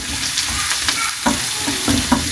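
Garlic crackles and sizzles steadily in hot oil for tempering karela chana dal, with a dense, bright frying hiss and occasional sharper pops, close up.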